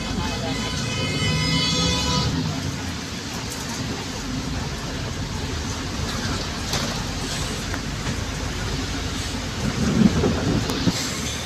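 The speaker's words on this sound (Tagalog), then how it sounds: "May kulugbat, may kidlat." Heavy rain roars steadily with a deep rumble of thunder underneath at a flooded Buendia terminal, loud and continuous, swelling slightly near the end.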